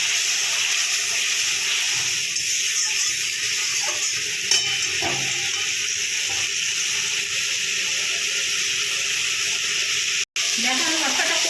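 A spice paste for a vegetarian young jackfruit dish is fried and stirred in a pan. It gives a steady, loud, close sizzle throughout, with soft scraping from the stirring.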